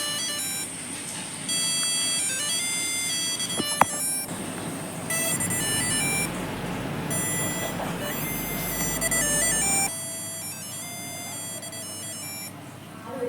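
A flexible PCB actuator used as a speaker, driven by Arduino PWM pulses through a transistor at 9 volts, plays a continuous buzzy sequence of changing electronic beep tones, steady and close with a faint hiss.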